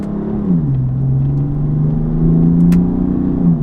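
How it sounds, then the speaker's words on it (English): A BMW M3 exhaust rumbles loudly up close, its tone dipping then holding and rising slightly in a raspy rev, with a brief click partway. "the tone of the exhaust seems to be a lot richer and raspier"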